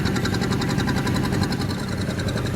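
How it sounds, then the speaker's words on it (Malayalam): Boat engine running steadily as a boat pulls away from a jetty on a bamboo boat trip in Ha Long Bay, Vietnam, a close, continuous low mechanical throb with rhythmic pulsing, no speech. "ഞങ്ങളുടെ ബോട്ട് ജെട്ടിയിൽ നിന്നും അകലുകയാണ്."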